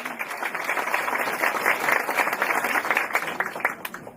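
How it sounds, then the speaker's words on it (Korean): Audience applause at the opening ceremony of a senior care home in Dongnae, Busan: a steady, dense crowd clapping that holds strong for the whole stretch, with no talk over it. "여러분 다시 한번 큰 박수 주세요"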